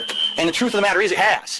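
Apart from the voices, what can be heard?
alarm ringing, muffled by paper towels on the door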